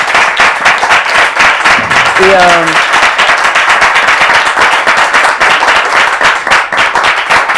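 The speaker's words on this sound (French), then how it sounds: "on peut applaudir toutes ces interventions" Studio audience on a French-language talk show applauds the guests' contributions, loud rapid clapping from many hands running continuously, with a brief voice cutting in near the start.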